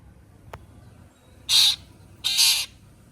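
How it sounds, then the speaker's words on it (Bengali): A bird calls twice against a glass window, two loud harsh bursts close by, preceded by a single sharp tap of its beak on the pane. "সব পাখিগুলো আসে এরকম, নিজের মুখটা দেখতে পায় আর নিজেরাই দেখে এরকম ডাকে, কাঁচে ঠোকা দেয়।"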